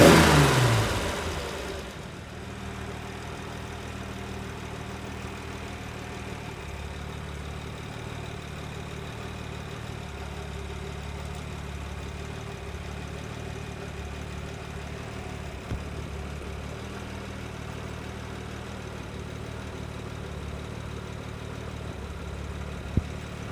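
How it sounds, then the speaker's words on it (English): Freshly restored 1969 Jaguar E-Type Series 2 engine running on the move, a steady mid-pitched drone with a low rumble, fairly close and continuous throughout with no voices. "1969, Jaguar E-Type Series 2, just fully restored. Let's take it for a run."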